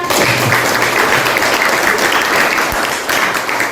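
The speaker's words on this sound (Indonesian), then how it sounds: "Terima kasih, tepuk tangan." Classroom applause from a group of students, a loud, steady wash of many hands clapping together, holding evenly for a few seconds.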